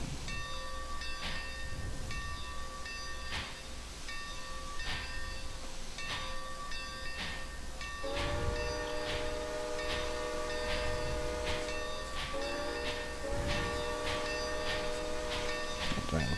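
A steam train in the video game Trainz chuffs in a steady rhythm with hissing steam, and mid-clip a chime-like whistle sounds twice, moderately loud, with no talking.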